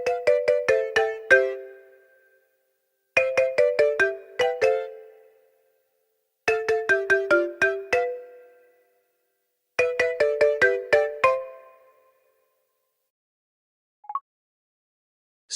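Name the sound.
Mizu ringtone playing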